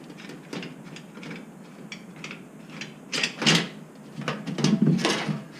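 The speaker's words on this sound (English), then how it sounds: "now I'm going to open this barrel. I'm going to take this band off" A metal band is worked loose and pulled off a barrel during honey-wine bottling, producing close scraping, ratcheting and clanking metallic noises that swell into a few louder rasps toward the end.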